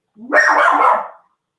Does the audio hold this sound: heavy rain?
no